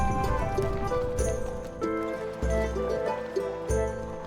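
Horses gallop in the strategy game Stronghold Legends. Repeated hoof clip-clops ring over a dense orchestral music bed, with several sharp hoof beats standing out in the second half.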